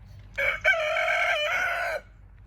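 One loud, close rooster crow lasting under two seconds, with a brief hitch near the start, heard alone against quiet surroundings.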